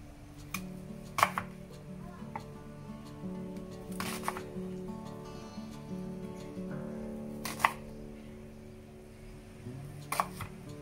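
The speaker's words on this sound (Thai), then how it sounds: "หอมใหญ่ก็เหมือนกันค่ะหั่นครึ่งๆเลย" A knife chops an onion in half on a cutting board while cooking Korean jjimdak. A few sharp, isolated cuts fall several seconds apart over a steady low kitchen hum.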